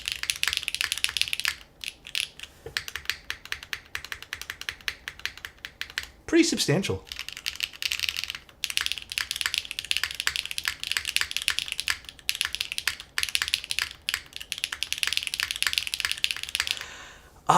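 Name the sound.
typing on a Stratum-80 mechanical keyboard build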